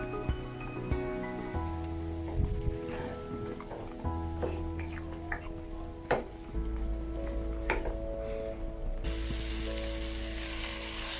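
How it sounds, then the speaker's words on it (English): Carrots stir-fry in a pan with mushrooms, a steady close sizzle broken by scraping and clinking strokes of a utensil, moderately quiet and without talk. "and then I stir fry. Leave it to cook for a few minutes. I just added my carrots."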